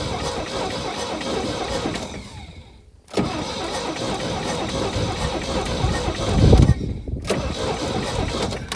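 A 1969 Chevrolet C30 truck rescued from an oil field is cranked: a loud, steady churning drone runs almost the whole time, breaking off twice briefly before resuming and swelling toward the end.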